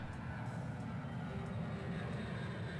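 A low, steady airplane drone rumbles throughout during play of the video game Shenmue, a constant engine roar with no breaks.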